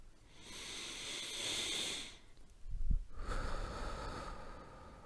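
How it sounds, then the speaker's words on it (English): Slow, deep breaths close to the microphone in a quiet ASMR setting: a long airy inhale fading out, a brief low thump, then a steady breathy exhale, with no talking. "Listen in to the sound of my breath."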